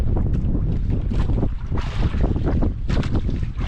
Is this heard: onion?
no